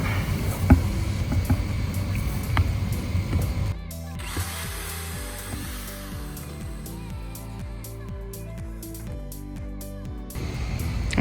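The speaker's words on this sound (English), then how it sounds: "now we're going to drill out the base for the straw that comes out." A power drill whirs loudly, then shifts to a lower, bumpier grinding as it bores out a base for a straw in a giant shave ice build, with brief stops and restarts.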